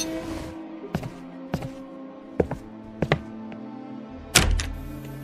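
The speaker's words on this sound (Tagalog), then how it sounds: "biglang may kumatok sa pintuan" Knocks on a house door in a spoken Filipino aswang horror story set in Capiz, heard as a few separate hollow thunks spread over several seconds, close and moderately loud with no talk.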